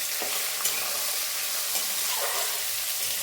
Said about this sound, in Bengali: এবার আমি এর মধ্যে দেখো রসুনটা ভাজা হয়ে গেছে।